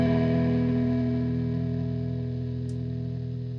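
A steady hum and hiss from a guitar effects pedal, constant and unchanging, with no playing or talking over it.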